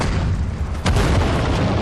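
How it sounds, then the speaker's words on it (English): Artillery shell hitting and destroying a tank in Sudden Strike 4, one sharp boom that breaks over steady battlefield rumble and leaves a dense roaring tail. "it's going to take it out with their artillery"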